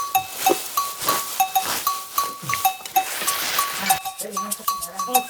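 A flock of sheep or goats bleats repeatedly while being driven along, with bell clinks and short calls; a voice urges the animals on over the noise.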